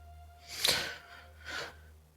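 At a tabletop Dungeons & Dragons session, a player's voice imitates snoring with two breathy, snorting inhales about a second apart, close and moderately loud over a low hum.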